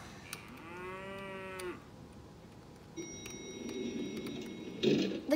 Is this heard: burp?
no